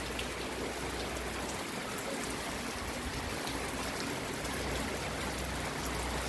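Steady rain and gusting wind from Super Typhoon Uwan, a dense unbroken hiss of water pouring onto surfaces at a constant moderate level with no voices.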